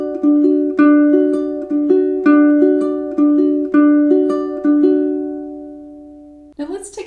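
A ukulele plays a steady fingerpicked pattern for a song at song tempo, clear close plucked notes ringing in a repeating four-beat cycle, then fading out before a short rustle at the end.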